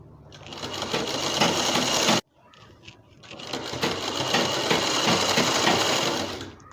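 An electric sewing machine stitches a seam on a namaz dupatta, running in a fast, steady whir for two bursts with a brief pause between, loud and close.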